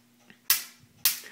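MSD ignition sparking on a test setup, with two sharp, loud snapping cracks about half a second apart, close and crisp over a faint hum.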